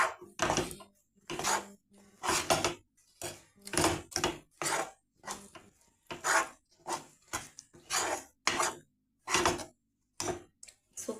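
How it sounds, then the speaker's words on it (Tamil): Repeated thick scraping and thudding of a spoon working heavy cassava fufu dough in a pot, steady rhythmic strokes close by, with short pauses between bursts. "நல்லா வந்து கை விடாமல் கிளறினே இருக்கணும்"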